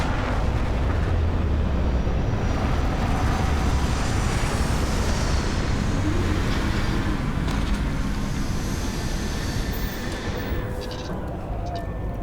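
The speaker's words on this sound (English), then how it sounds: "Captain, landing procedure initiated." A spaceship sets down in the Starfield video game with a loud, continuous roaring rumble of engines that holds steady before easing slightly at the end.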